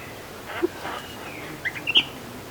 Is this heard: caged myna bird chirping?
yes